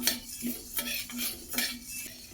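A pan of chana dal being dry-roasted for homemade sambar powder is stirred with a metal utensil, giving about five rhythmic scraping and clinking strokes close up.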